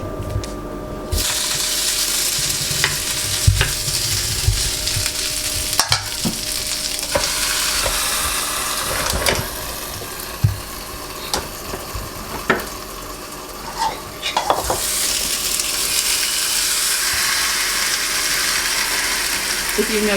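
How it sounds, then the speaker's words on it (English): Mashed potatoes cook in a waffle iron with a loud steady sizzle and frying crackle that runs throughout, with scattered clicks and pops. "So Justin wanted to waffle the mashed potatoes."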